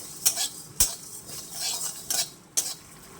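Tomato chutney lightly frying in a pan while a spoon stirs and scrapes it, giving several sharp utensil clicks over a soft, steady sizzle at close range.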